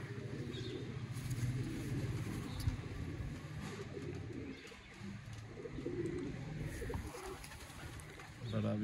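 Pigeons coo softly and repeatedly, close by, with faint traffic and background murmur underneath.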